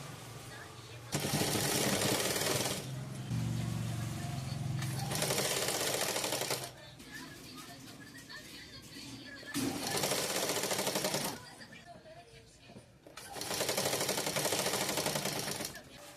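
Sewing machine stitching a folded pant hem, running in several loud sustained bursts separated by brief pauses, with talk in between.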